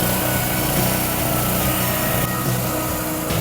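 A Subaru engine on a pressure washer runs continuously at a steady, loud, throbbing drone, close by, with no voices.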